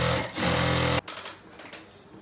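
A sewing machine runs a steady, loud burst of stitches on a Farsi salwar for about a second, then cuts off, leaving soft handling noises and faint rustle.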